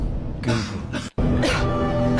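A woman gives a short, forceful cough, a pause, then a second harsh cough, close and loud with no talking.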